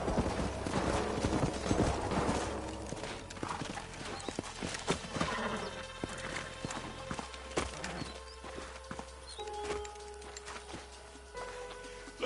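Horses' hooves in the video game Red Dead Redemption, close clip-clop steps slowing and shuffling to a halt, with a snort or whinny and soft western music underneath.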